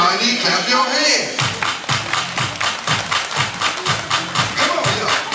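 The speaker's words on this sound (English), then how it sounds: "Everybody clap your hands." A group claps hands in a steady, rhythmic beat during a line dance, the crisp claps repeating about twice per second over music after a brief lead-in.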